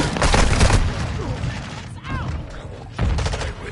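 Rapid gunfire in Modern Warfare III, dense bursts of shots rattling loudly with brief gaps, close and punchy, a second volley kicking in near the end.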